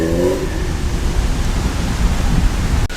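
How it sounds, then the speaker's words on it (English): A classic 1980s BMW E30 rolls in at a classic car show, a steady broadband road and engine wash with a brief rising tone at the start and a sharp click near the end. "Another cool classic E30 1980s BMW making its way in."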